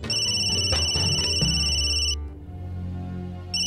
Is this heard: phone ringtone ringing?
yes